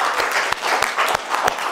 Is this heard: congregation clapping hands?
yes